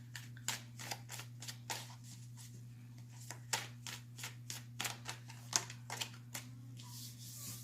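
Tarot cards being shuffled and drawn at close range, a series of sharp papery slaps and riffles in uneven bursts over a low steady hum, quiet and without talk.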